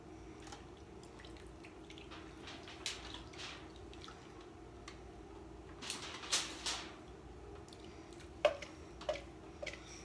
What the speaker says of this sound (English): And then you pour this over the roast and vegetables.